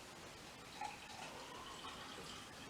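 A liquid solution poured into starch in a lab setting, a faint, steady trickling wash of liquid lasting a few seconds with a slight splash near the start.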